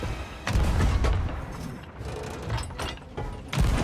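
Ship cannons firing in the pirate game Sea of Thieves: dense, booming blasts and mechanical clanks one after another over rushing sea and wind noise, loud and close.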